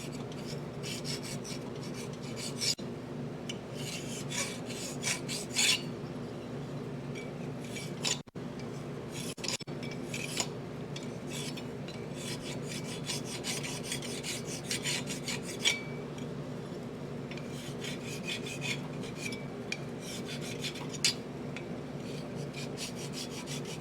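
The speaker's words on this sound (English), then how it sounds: "Then we just go in with file." A hand file works metal on a Yamaha AT-1 MX motorcycle part, producing repeated rasping strokes in steady rhythm, close and fairly quiet, with a few brief pauses.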